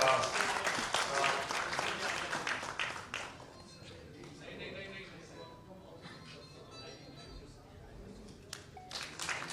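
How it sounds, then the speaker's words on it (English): An audience at a book release event claps in a burst of applause for about three seconds, then it thins into scattered claps and room murmur with voices in the background. "round of applause"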